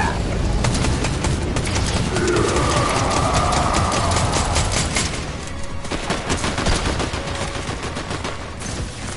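Rapid bursts of shotgun and other gunfire ring out in a PS4 shooter game, loud and dense at first, then sparser cracks over a steady noisy background.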